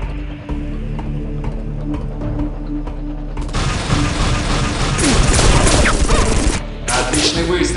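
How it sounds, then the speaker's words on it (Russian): Dense bursts of rapid gunfire and mechanical clatter in Unreal 2: The Awakening build over steady game ambience, loud and close, with a brief pause before the firing resumes. "Отличный выстрел."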